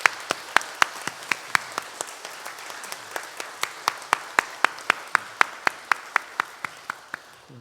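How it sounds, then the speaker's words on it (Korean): Congregation at a Sunday afternoon church service in Gwangju clapping in a blessing for a visiting pastor, a single slow, steady pair of hands striking in even rhythm, about three claps per second, close and distinct over a faint room hum. "우리 서로를 위해서 축복의 박수하도록 하겠습니다"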